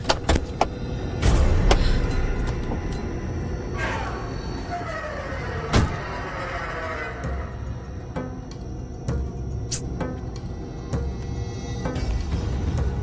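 Car doors open and shut as people get out of a parked car, several sharp thumps spread across the stretch, with people talking around them.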